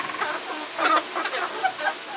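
Chickens cluck and murmur in a coop while roosting, a busy overlapping flock of soft calls close by with a few sharper squawks throughout.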